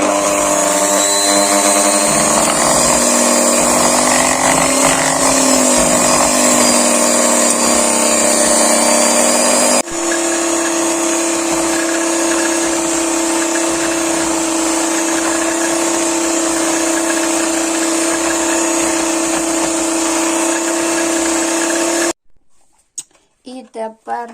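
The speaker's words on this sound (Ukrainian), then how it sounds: "Включаємо наш міксер" Electric mixer whirs loudly and steadily while beating carrot cake batter with apple puree, shifting pitch once partway through as the speed changes, then cutting out near the end with a few brief clatters.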